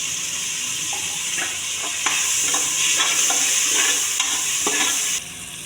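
Tomatoes, onions, mint, coriander and curry leaves sautéing in a pan, a steady loud sizzle with occasional stirring scrapes and clinks throughout, easing slightly near the end.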